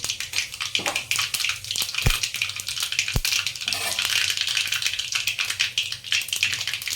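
Cumin seeds sizzling in hot oil in a kadai, a close, continuous hiss with quick spattering crackles and two distinct sharp knocks partway through.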